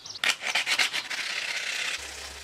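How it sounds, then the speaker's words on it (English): Aluminium pipe being sanded by hand during a brush mower repair: a quick series of close, loud rasping strokes that settle into a steady scratchy rub. "so if I just sand a bit off it"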